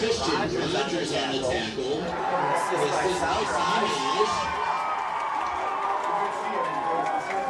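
Crowd at a high school varsity football game, Windsor versus Chenango Valley, cheering and shouting steadily under a commentator's voice, with a broad sustained roar swelling slightly midway.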